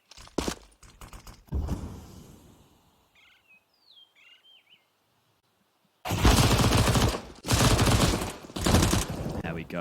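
Counter-Strike gunfire from SMGs and Glock pistols in the G2 vs BIG match at IEM Katowice 2023. Bursts of rapid shots open the clip, then a quiet stretch with faint bird chirps, then loud, dense automatic fire takes over.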